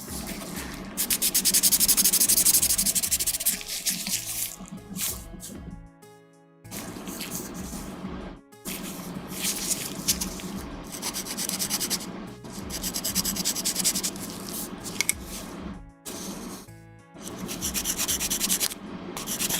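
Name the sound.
sanding a Gunpla plastic model part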